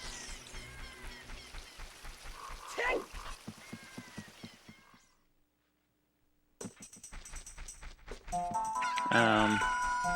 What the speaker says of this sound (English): I just heard a rooster crow